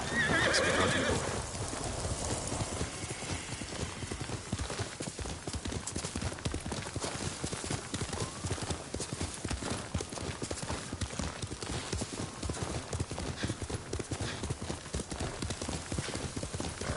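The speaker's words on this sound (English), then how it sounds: "Horse!" Horse in the video game Ghost of Tsushima, a brief whinny at the start followed by a steady, rapid rhythm of hooves clip-clopping at a gallop that continues to the end.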